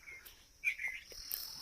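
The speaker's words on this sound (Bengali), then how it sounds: "আর গাছে পাখিদের কুজন" Birds chirp and tweet in trees in a forest in Sikkim, giving a few short, bright calls close by over a quiet background, with no one talking.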